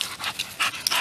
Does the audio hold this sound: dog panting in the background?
yes